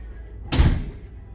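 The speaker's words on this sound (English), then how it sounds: "Another door out into the hallway." Door opening into a cruise ship cabin hallway, a single heavy thunk with a short burst of airy noise over a low background hum.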